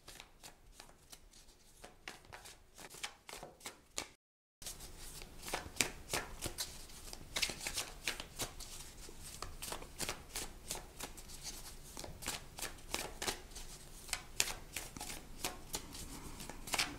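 Oracle cards riffle and slap together in a steady, continuous shuffle close by, with a short break early on before the dense shuffling resumes and carries on throughout.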